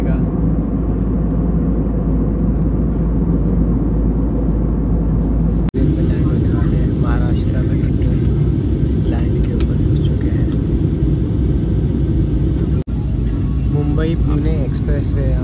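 Fixed-wing aircraft engine in flight along the Goa coast on a route toward Pune and Mumbai, a steady loud cabin drone and rumble throughout, with people talking over it.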